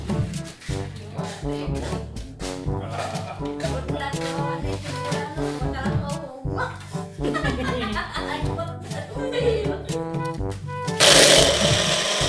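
A blender whirs steadily while making a papaya shake, its motor droning loud and close beneath layered music and laughter, then rising to a brighter, harsher roar near the end.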